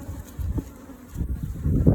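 Honey bees buzzing close by at a top bar hive, a low, wavering hum that swells and fades as the insects move around.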